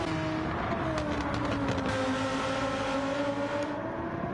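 Lamborghini race cars in a racing video game at Watkins Glen, a sustained engine drone with gliding pitch as the cars hold speed, steady and fairly loud with no talk.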